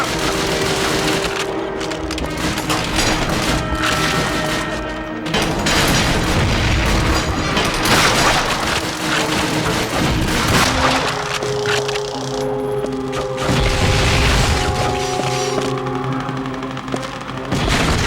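Tank battle in Call of Duty: Finest Hour, a World War II shooter, with loud, dense gunfire and heavy explosions booming continuously, close and overlapping, under a constant roar of battle.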